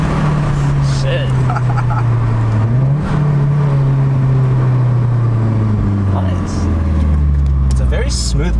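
A turbocharged car pulls hard under acceleration, its engine droning loudly and steadily with a shifting pitch, while people talk inside the cabin.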